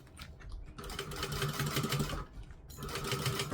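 A sewing machine stitches and back-stitches a gusset seam with a 1/8 inch seam allowance, running in steady, fast, fairly quiet bursts with a short pause in the middle.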